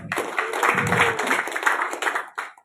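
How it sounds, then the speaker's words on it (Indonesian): A crowd at a village head election campaign event applauds the local police chief, a short bright spell of clapping that fades out near the end, with a voice briefly heard beneath it. "tepuk tangan untuk Pak Kapolsek"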